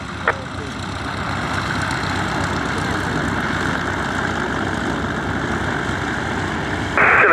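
A light aircraft engine drones steadily as the plane departs from an airshow at Little Gransden, a continuous mid-distance rumble that swells slightly at the end, with radio chatter over it.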